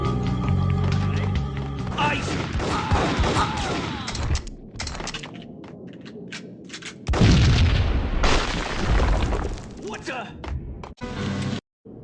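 Explosions and gunfire boom through a level of the mobile game Max Payne Mobile, with loud heavy blasts and crackling shots mixed with in-game character voices talking.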